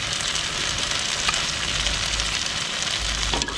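Rice simmers and sizzles in a paella-style pan during an outdoor catch-and-cook, forming a slight crust, with a steady, close, loud crackling hiss that runs without a break.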